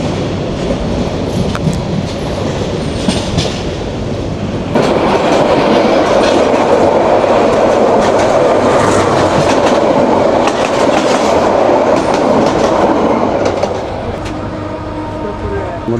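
Jayentika Express on the Dhaka to Sylhet line near Tejgaon, rolling along the rails with a loud continuous rumble and rhythmic clickety-clack that swells for most of the stretch, then eases off toward the end.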